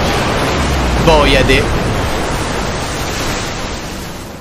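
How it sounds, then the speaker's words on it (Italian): Water draining away in the video game Darksiders Warmastered Edition, a steady broadband rush like surf that carries on throughout, with a brief spoken word over it. "Ora l'acqua drena."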